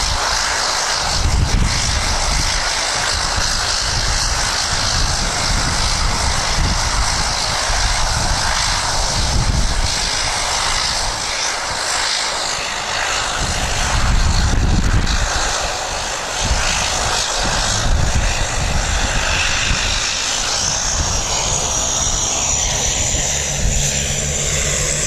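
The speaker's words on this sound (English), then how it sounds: "There's a little Dash 8 departing for Napier." A small Dash 8 turboprop departing Wellington Airport for Napier, its propeller drone and engine roar loud and continuous, with a rising tonal whine toward the end as it climbs away.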